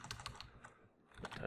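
Quick bursts of keystrokes on a computer keyboard, faint clicks in two short runs separated by a brief pause.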